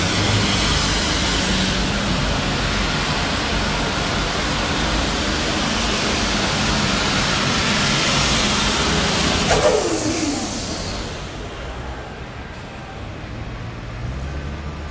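An Allis-Chalmers super stock pulling tractor roars down the track at an evening tractor pull in Louisville, a loud sustained engine howl that drops abruptly in pitch and fades as the run ends.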